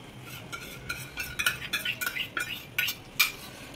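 Ghee poured into a thickened milk Mysore pak mixture off the heat, then stirred, giving a run of close metallic spoon scrapes and clinks against the pan with a faint sizzle beneath.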